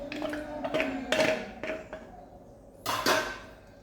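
Fried rice and egg being mixed in a pan with a metal utensil, a few sharp scraping clinks and taps in irregular strokes, close and moderately loud, with quiet gaps between.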